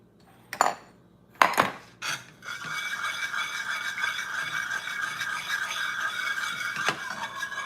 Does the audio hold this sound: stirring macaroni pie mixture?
yes